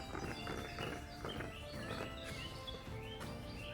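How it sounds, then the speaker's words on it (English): Birds sing and chirp in damp, mossy woodland at Hembury Hillfort, a dense overlapping chorus of bright calls held at a steady, fairly loud level for a few seconds, with no one talking. "you can hear all the birds around"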